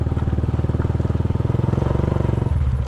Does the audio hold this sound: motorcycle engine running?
yes